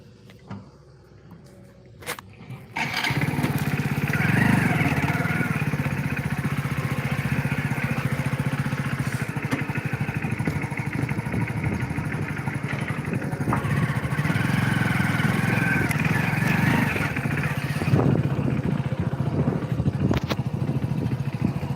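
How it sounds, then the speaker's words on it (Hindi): A motorbike engine runs steadily while riding, a loud, continuous mid-pitched drone with rumbling and wind buffeting, starting after a few quiet seconds with brief clicks and then holding for the rest of the ride. "अब देखिए आप लोग, हमारी बाइक चल रही है और हम भी चल रहे हैं आपको मंदिर दिखाने।"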